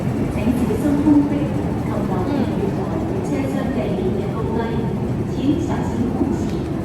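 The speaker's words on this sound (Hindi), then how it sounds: "मेरी ट्रेन भी आ चुकी है।" A train pulls into a Macau station with a steady low rumble and a drone of wheels and motors, broad and constant throughout. A person talks over it.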